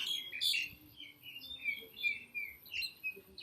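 Birds chirp and tweet outdoors, quick high bright calls repeating in short bursts over a faint background, moderately quiet and close.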